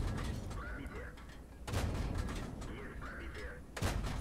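Tank cannon shots in a World of Tanks match: two heavy, sharp booms about two seconds apart, each with a rumbling tail, while someone talks over the action.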